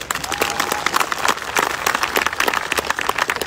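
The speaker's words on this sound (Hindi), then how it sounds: "मैं चाहूंगा सभी गुरुओं के लिए एक जोरदार तालियां।" Loud, dense applause from a large audience honoring gurus at a wellness company celebration, many hands clapping continuously and close, with faint crowd noise underneath.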